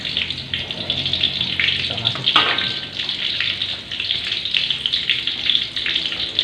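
Spring onions go into a pan of frying mie goreng made from egg noodles, giving a steady hiss and sizzle with a brief sharp crackle burst midway, heard close and continuous.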